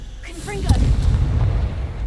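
A Confringo blasting spell in a video game, a quick rising magical whoosh followed by a heavy rumbling explosion that fills the rest of the moment with a low booming roar.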